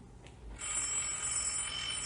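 A telephone bell rings steadily at ranger headquarters, a continuous bright trill starting after a brief pause and holding loud and close.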